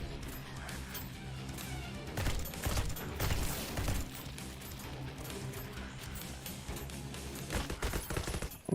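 A submachine gun in a video game fires rapid, fairly quiet bursts of shots, with clattering mechanical and impact noises mixed in throughout.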